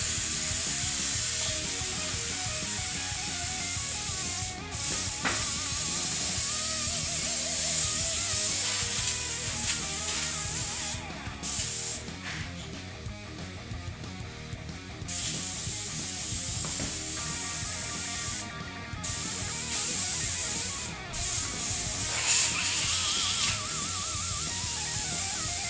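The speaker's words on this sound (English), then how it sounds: "So I'm going to clean out the airbrush real fast." An airbrush being cleaned out sprays in long bursts of bright hiss, broken by short pauses and clicks as the flow starts and stops.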